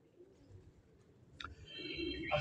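Pigeons at a rooftop breeding loft give soft cooing calls under a low background rumble, with a brief flutter and a louder bird call near the end.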